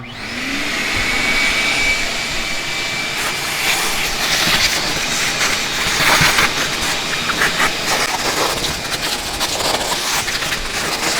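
A vacuum cleaner runs steadily and loudly up close, with whooshing and rattling bursts as the nozzle moves over the seats of a Corvette C3.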